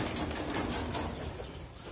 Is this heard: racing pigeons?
yes